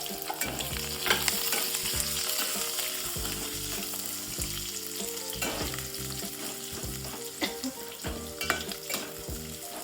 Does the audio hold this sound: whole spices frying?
yes